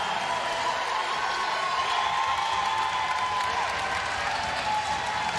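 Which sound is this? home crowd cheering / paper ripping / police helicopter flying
home crowd cheering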